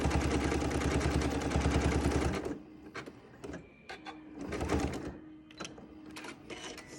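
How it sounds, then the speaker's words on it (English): Janome M7 sewing machine running a decorative stitch on fabric binding: a loud, steady rapid mechanical chatter for about two and a half seconds, then stopping, followed by quieter handling clicks and faint shuffling. "if you're on a Janome M7, that's exact settings right there that we use to do a decorative stitch on the binding"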